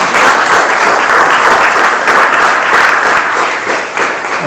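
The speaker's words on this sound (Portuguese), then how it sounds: "Você pode dar mais um aplauso a Jesus." A congregation at a church service gives loud, sustained applause: a dense, continuous roar of many hands clapping together, with no voices standing out.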